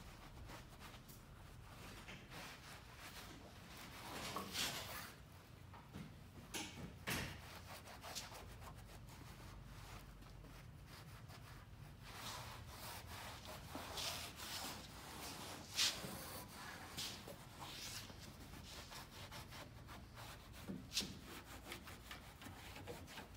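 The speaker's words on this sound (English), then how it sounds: "we'll take our microfiber, just kind of clean it all up here nice" A microfiber cloth is rubbed over a car tailgate, making soft, continuous wiping and scrubbing strokes with irregular rhythm, faint and close with no talking.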